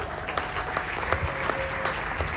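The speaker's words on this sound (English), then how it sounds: "A round of applause for them." Audience at a church cell leaders retreat clapping, a steady moderate patter of many hands with a few sharper individual claps standing out.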